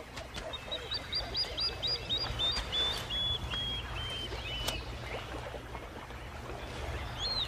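A feisty plover, a ground-nesting bird, calls in alarm at a monitor lizard raiding nests near crocodiles: a quick run of sharp, high chirps that eases into a few drawn-out whistled notes over a steady low outdoor rumble.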